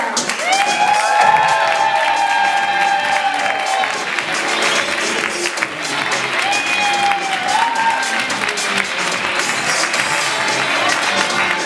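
An audience at a standup comedy show applauds and cheers, dense steady clapping mixed with whoops and whistles throughout.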